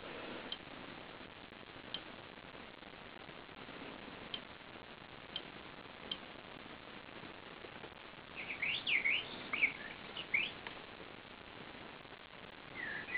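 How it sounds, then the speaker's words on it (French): A few short bird chirps and trills from a Philips wake-up light alarm clock near the end, over a steady soft hiss with faint regular ticks; no voices. "c'est le chant des oiseaux, tout simplement"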